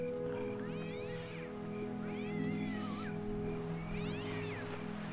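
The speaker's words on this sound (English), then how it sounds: "Someone get that cat." A cat meows three times in a game world at the port town of Port Llast, each call a rising and falling wail over a steady ambient hum.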